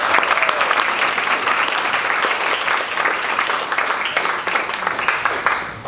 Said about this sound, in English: Can we get a round of applause for Todd, please?